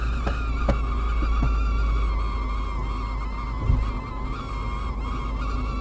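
A steady, loud whooshing roar fills a car while it is being driven with the ventilation switched off. A low rumble sits underneath and a few faint clicks and thumps break through.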